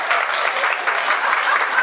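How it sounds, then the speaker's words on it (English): A room of trainees breaks into a lively round of clapping, dense and close, sustained evenly for a couple of seconds. "Round of applause."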